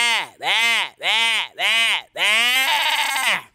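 A person's voice imitates a sheep bleating, giving four short, evenly spaced nasal baa calls followed by one longer, wavering bleat. The calls are loud and close, heard alone.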